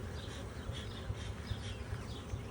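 Honeybees buzz in a steady, dense hum around a frame lifted from a beehive, close and continuous with small pulsing swells, no voices.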